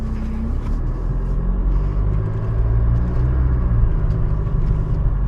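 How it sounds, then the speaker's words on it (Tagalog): A Chevrolet Trailblazer diesel engine idles nearby with a steady low rumble and faint clattering, constant from start to finish with no talking. "Rinig mo yung engine, talagang diesel ang dala mo."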